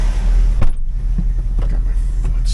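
A 2005 Chevrolet Corvette with an LS2 engine drives at a wrecking yard, its low steady engine rumble loud and close, with a brief thump partway through.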